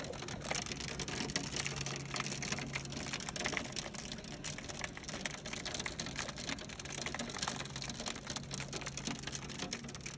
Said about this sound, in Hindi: हमारे यहाँ ओले पड़ रहे हैं।